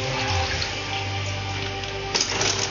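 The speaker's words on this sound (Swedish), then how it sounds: "Jag tar lite vatten sådär." Water poured while cooking inside a car: a close, steady trickle and splash runs throughout, swelling briefly near the end, with no one talking.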